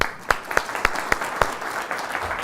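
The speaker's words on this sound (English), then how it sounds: "So a big round of applause for them." Audience applause at a talk, a thin scatter of distinct claps in an even rhythm, moderately loud and alone without voices.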